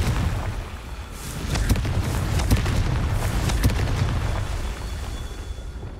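A Confringo fire spell explodes in Hogwarts Legacy with a series of booming blasts and crackling bursts rumbling over a few seconds before fading.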